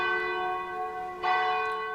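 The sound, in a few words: church bell ringing in a São Paulo church tower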